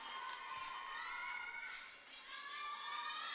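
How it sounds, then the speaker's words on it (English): Crowd at a rhythmic gymnastics world championship in Minsk cheering and shouting loudly and steadily for a Belarusian gymnast's hoop final, with high-pitched voices dominating a dense arena roar that dips briefly midway. "listen to the crowd from Belarus, Katsiaryna Halkina"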